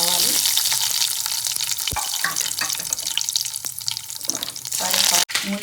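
Cumin and mustard seeds frying in hot oil in a pan on a stove, a loud, dense, continuous sizzle with a few small knocks and no talking.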